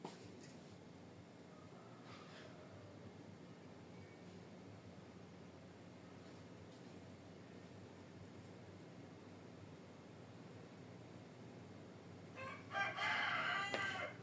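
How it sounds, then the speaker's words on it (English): Rooster crowing at a distance during a long quiet stretch of faint background hiss, then one louder, nearer crow rising at the very end. "that rooster does not stop"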